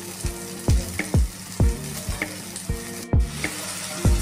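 A masala with turmeric powder frying in a pan while a spoon stirs it, making a steady sizzle broken by rhythmic scraping strokes about every half second, close and clear with nobody speaking.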